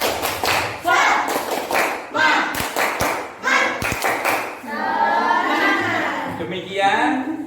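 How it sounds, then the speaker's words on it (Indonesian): Children clapping a rhythmic spirit clap in a classroom setting, bursts of sharp claps in patterned groups alternating with loud chanting voices, close and lively. "Tepuk semangat."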